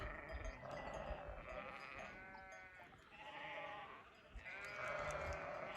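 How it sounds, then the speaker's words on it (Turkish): Sheep and goats on a stormy mountainside in the Nurhak range bleat repeatedly, several calls overlapping against a constant roar of wind. "Koyunlar da keçilere doğru gidiyor."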